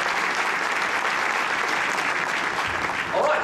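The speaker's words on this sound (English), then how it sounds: "Ladies and gentlemen, round of applause for Mr." Audience applause at a Samsung Unpacked launch event at IFA 2013, a dense steady wash of many hands clapping throughout, with a faint voice near the end.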